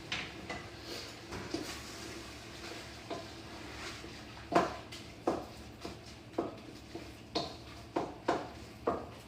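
Beef cooking in a pot for lasagna soup with Italian sausage, a soft steady sizzle underneath faint clinks and scraping stirs, several sharp utensil taps recurring toward the end.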